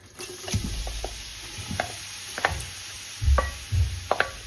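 Grated carrots frying in hot oil in a pan crackle softly while a utensil stirs them, giving irregular scraping clacks and low bumps close by, with no voices.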